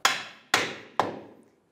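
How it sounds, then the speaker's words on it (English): Three sharp metallic hammer blows on a control arm bolt of a 2011-2014 Hyundai Sonata, evenly spaced about half a second apart, each ringing briefly before the next strike. "Using a hammer,"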